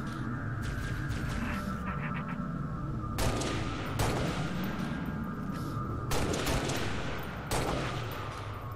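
Loud, close weapon fire in Halo: Reach, with sustained automatic bursts and several heavy, punchy shots over a constant battle din.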